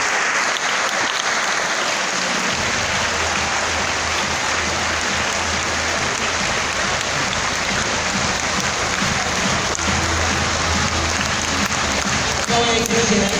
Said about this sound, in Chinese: 连续的掌声再一次